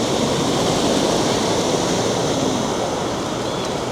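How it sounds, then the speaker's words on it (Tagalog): Strong floodwater rushes across a submerged Espana Boulevard in Manila, a dense, steady roar of churning water that fills the whole clip with no pauses. "Lakas ng tubig, oh."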